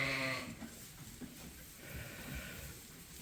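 Sheep bleat near a farm feed trough at lambing time, one loud harmonic bleat at the start followed by shuffling, snorting and softer animal noises from the flock.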